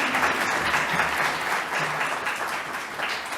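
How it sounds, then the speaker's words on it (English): Steady, full applause from a conference audience at a development report launch, dense clapping that holds at an even level throughout. "Raucous applause would be appropriate"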